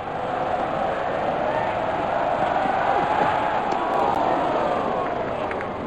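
Dense, steady roar of a large cricket stadium crowd at a Chennai versus Punjab match, loud and continuous with no breaks, a broad wash of voices cheering throughout.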